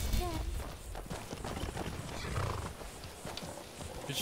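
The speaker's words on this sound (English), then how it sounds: "But she keeps riding the spare horse." A horse gallops in Skyrim, with rapid hoofbeats and movement noise filling a brief, dense stretch of game audio, and a short whinny near the start.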